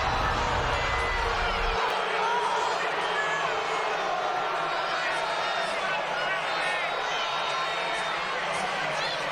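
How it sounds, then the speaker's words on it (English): A large crowd roars and cheers continuously at a state championship basketball game between Providence and Albany, a dense steady wash of voices that stays loud throughout. "This crowd needs nothing else to get it fired up."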